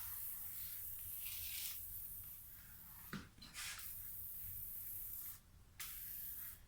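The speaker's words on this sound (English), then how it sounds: "I'll go ahead and give this another little spray." A spray bottle mists microgreen seeds with a couple of short bursts of fine hiss, close and fairly soft against a quiet room background.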